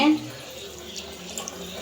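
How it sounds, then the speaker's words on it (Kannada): Water poured into a pot of village-style radish sambar with fried tomato and masala, a soft steady trickle and splash at moderate level with a few small bursts. "ಇವಾಗ ನೀರು ಸೇರಿಸ್ಕೊತಾ ಇದ್ದೀನಿ"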